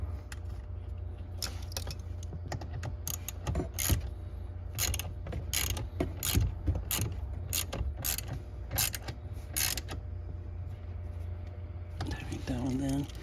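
Small screw being tightened by hand on a blend door actuator of a 2005-2009 Ford Mustang HVAC system, heard as a string of faint ratcheting clicks and ticks over a low steady hum, with a voice speaking briefly.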